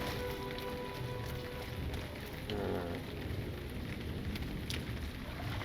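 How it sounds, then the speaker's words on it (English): Heavy rain pours down in the fantasy game LOTRO, a continuous broadband hiss of downpour on surfaces, steady and enveloping with no voices. "Oh, it's really heavy precipitation right now."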